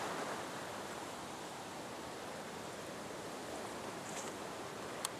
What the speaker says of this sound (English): My, this water's fast here